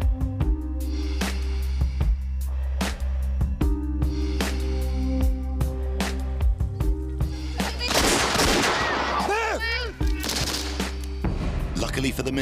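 A sniper rifle shot rings out during a staged assassination attempt on a minister amid a jostling press pack, sharp cracks cutting through dense background music and crowd clamour.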